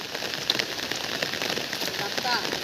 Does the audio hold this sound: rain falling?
yes